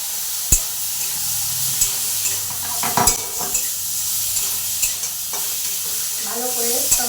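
Tomatoes with salt and turmeric fry in a pan with a constant close sizzle, punctuated by sharp spatula knocks and scraping stirs against the metal.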